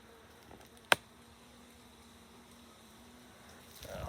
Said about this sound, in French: je vois des frelons partir avec des abeilles là